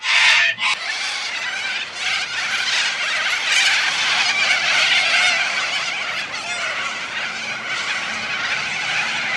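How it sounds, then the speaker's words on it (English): A flock of sulphur-crested cockatoos screeches from the treetops, with harsh, raucous calls overlapping continuously into a loud, dense chorus close by, without a break. "they are chatting like mad because they are very social birds"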